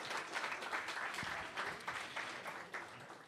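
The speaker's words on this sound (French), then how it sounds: "Fait que, on l'applaudit aussi." Audience in a hall applauds throughout, with a continuous wash of many hands clapping and a few louder individual claps standing out near the microphone.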